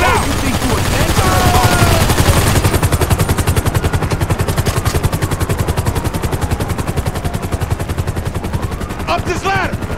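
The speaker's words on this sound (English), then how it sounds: "We ain't going nowhere with that chopper on us. Take it out!" In the GTA V video game, a helicopter's rapid rotor chop thumps continuously and loudly while bursts of gunfire crackle over it, with shouting voices in the mix.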